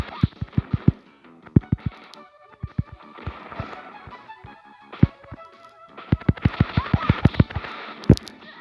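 Bursts of rapid gunfire from the video game Dragon Ball: Advanced Adventure, quick clusters of sharp shots with pauses between, over a busy game soundscape.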